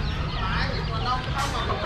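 At Sơn Kỳ market in Tân Phú, chickens from Bến Tre cluck in short bursts amid the bustle, with people talking nearby and steady crowd noise underneath.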